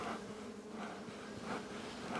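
Honey bees buzzing around a beehive, a dense continuous hum with the swarm sounding close and steady throughout, no voices.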